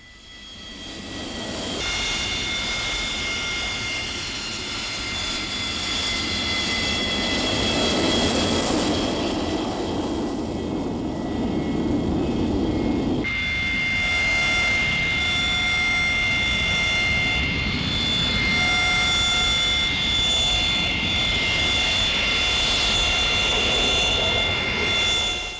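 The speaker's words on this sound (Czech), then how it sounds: "Po přistání posledního letounu pojíždí celý roj na určenou provozní stojánku." A swarm of fixed-wing airplanes taxiing to an assigned parking stand after landing, with loud, sustained engine roar and steady whining tones that shift in pitch midway, no voices.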